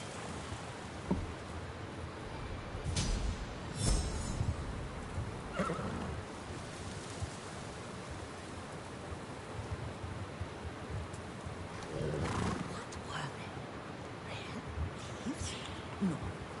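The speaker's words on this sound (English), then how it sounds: "You're a good horse, Lily." A horse whinnies a few times amid soft shuffling and hoof sounds, with quiet talk in the background, in the video game Ghost of Tsushima.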